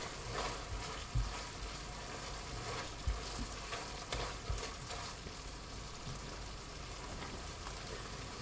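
Tomato sauce with pasta water simmering and sizzling in a pan for spaghetti al pomodoro, a continuous soft bubbling crackle with occasional stirring knocks, close but fairly quiet.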